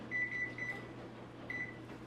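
A kitchen oven beeps as its temperature is set to 450, giving a quick run of several short electronic tones, then another couple of beeps after a pause, with a low appliance hum underneath.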